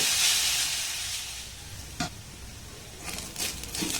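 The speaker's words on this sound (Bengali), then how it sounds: "এবার এটাকে ঢাকা দিয়ে আমি খুব সুন্দর করে নাড়াচাড়া করে একটু ভেজে নেব।" Grated raw potato and mixed vegetables frying in a pan, a soft steady hiss that fades. A few light stirring scrapes come near the end, and no one talks.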